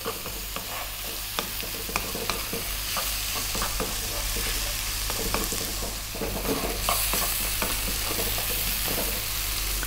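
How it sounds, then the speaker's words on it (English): Spice powders for egg curry sizzling in an oil-filled pan as they are stirred constantly, a steady close frying hiss with scraping strokes of the spoon and no talking. "keep it going for about another three minutes. Stirring pretty much all the time now"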